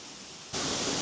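A waterfall in the rain in Kochi, Japan, heard as a dense, loud rushing roar that swells abruptly midway and then holds steady, with no talk.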